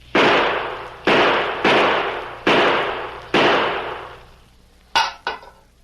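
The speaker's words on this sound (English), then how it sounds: "5 bullets can put that tin can into the well." A radio drama sound effect: five gunshots ring out in quick succession at roughly even intervals, each loud and sharp with a short decaying tail. A couple of smaller metallic clanks from the struck tin can follow.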